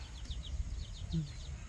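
Faint, rapid peeping of newly hatched chicks repeats in a steady series over a low background rumble, with a brief low cluck midway.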